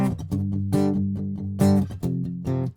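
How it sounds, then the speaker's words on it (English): Electric or acoustic guitar strumming with rhythmic chord hits, short muted dead-note scratches filling the gaps at chord changes, close and clear with no talking. "go ahead and give yourself some extra dead notes."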